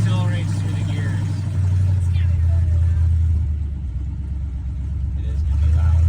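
A 1981 Chevy C10 pickup accelerating on a highway, its loud, deep engine rumble climbing and dropping as it shifts through the gears, heard from inside the cab with some talk over it.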